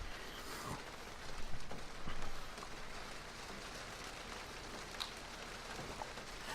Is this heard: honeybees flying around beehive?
no